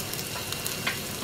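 Soft, steady sizzle of garlic and curry leaves frying in oil, with faint crackles and pops over a low hiss, close up and quiet.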